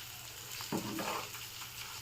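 Water with onion boiling in a pot for pepper rasam, a steady bubbling hiss close by, with one brief louder stir or clatter partway through and no voices.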